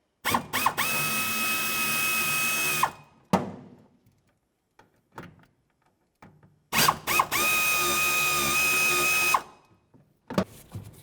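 A power ratchet with a 7mm socket works on the filler and vent hose clamps at the gas tank of a 1997-2004 Dodge Dakota, two loud whirring bursts of several seconds each separated by quiet clicks and clunks.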